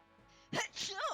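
A single sharp sneeze, close and fairly quiet, a quick inhaled build-up bursting into a breathy snap, followed immediately by a voice speaking.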